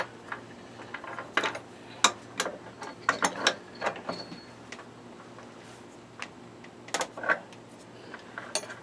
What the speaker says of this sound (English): Now lock this nut against the one you just tightened up.